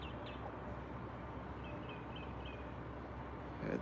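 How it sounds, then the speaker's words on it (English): Birds singing outdoors on a morning in nature, faint chirps and short whistled phrases scattered over steady background hiss, fairly distant. "I love to hear the birds."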